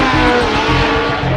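A Formula 1 race car at the 1976 British Grand Prix roars loud and close, its engine note pulsing steadily throughout.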